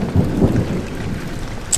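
Low rumbling thunder rolls under steady rain in the horror game Amnesia: The Dark Descent, a continuous, moderately loud storm wash with a brief brighter crack near the end.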